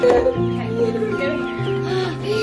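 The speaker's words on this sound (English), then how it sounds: "I think she's one of the Jersey Giants. We got so many kinds, I don't know anymore. Our silver lace Wyandottes." Backyard hobby-farm chickens, Jersey Giants and silver laced Wyandottes, cluck and squawk close by in a short burst of overlapping calls on a winter evening.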